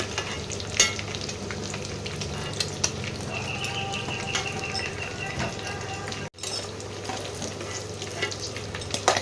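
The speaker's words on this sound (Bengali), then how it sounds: "এইরকম ভাজা হবে। এবারে আমি তেল থেকে আস্তে আস্তে মাংসগুলোকে তুলে নিচ্ছি।" Lamb pieces sizzle steadily in hot oil for lamb kasa while they are slowly lifted out, a continuous close frying hiss with scattered clinks of a utensil and a brief dropout partway through.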